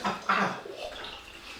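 Warm water runs from a tap in a soft, steady splashing hiss that swells briefly near the start and then settles into a quieter, continuous flow.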